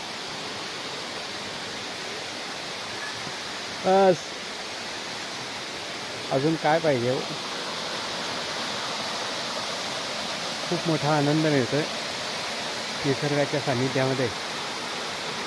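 Water rushes and gurgles in a steady, even wash near Bhairav cave on the Narmada parikrama route, while someone speaks in several short bursts over it.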